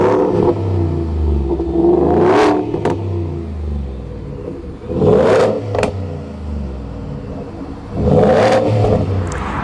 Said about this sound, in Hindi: इसका शोर जो बोरला एग्जॉस्ट का है वो आपको सुनाता हूँ